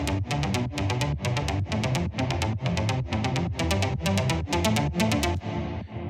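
A virtual synth with a plucky texture and Valhalla reverb plays a steady sequence of bright, evenly spaced plucked notes, each with a sharp attack and a short reverberant tail, loud and alone.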